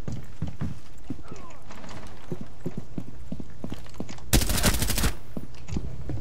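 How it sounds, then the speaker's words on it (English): Gunfire bursts out of building windows in a tactical shooter game, with scattered sharp shots and footsteps leading into a loud, dense rapid-fire volley about a second long, close and prominent over the game noise. "they're shooting out the windows."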